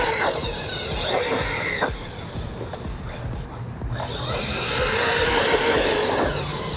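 An RC truggy drives off-road with its electric motor whining and rising and falling as it accelerates, tires scrabbling over rough ground, heard steadily at close to moderate distance with no talking.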